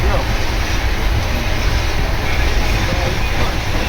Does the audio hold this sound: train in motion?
yes